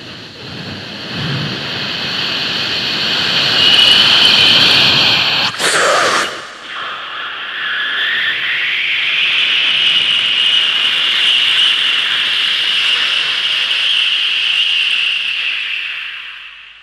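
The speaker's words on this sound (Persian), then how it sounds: "دیدم هواپیما داره میره" Loud jet engine roar of an airplane taking off, played as a comedy-concert sound effect: a sustained high whine and rumble that swells, briefly dips, then builds again and fades at the end.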